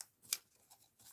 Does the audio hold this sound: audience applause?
no